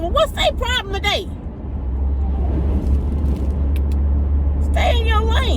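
A big truck rolling through traffic, heard as a steady, close low engine rumble that fills the middle of the stretch, with someone talking before and after it.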